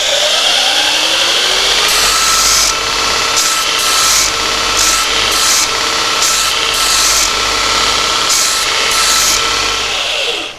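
A surface grinder grinding a taper on a knife tang: a loud, continuous motor whine carries a harsh abrasive rasp that swells and eases in repeated strokes as the workpiece passes under the wheel.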